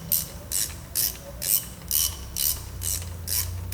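A ratchet loosens a pulley bolt on an Opel Insignia engine, eight evenly spaced bursts of crisp, close clicking over a low background hum.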